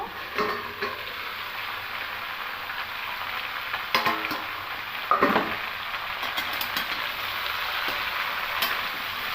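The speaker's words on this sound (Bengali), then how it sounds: "একটু থালা ঢাকা দিয়ে হালকা করে একটু ভেজে নেব" Mixed vegetables for shukto fry in an uncovered pan with a steady close sizzle, broken by a few louder clatters of stirring spoon against the pan midway.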